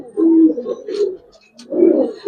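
Giribaz pigeons coo close by in low, throaty rolling phrases, two main bouts separated by a short pause, with faint rustling between them.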